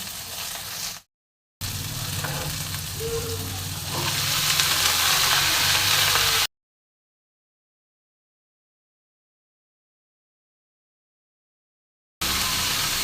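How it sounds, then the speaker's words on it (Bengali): Pumpkin pieces fry in a pan with a steady, fairly loud sizzle and hiss as they are stirred, the sound dropping out to silence midway before the sizzling briefly returns. "এবার আমি মিষ্টি কুমড়োটা দিয়ে দেবো"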